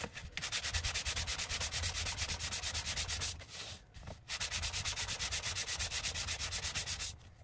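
A homemade sanding stick rubs back and forth in a fast, steady rhythm of scratchy strokes, with two brief pauses.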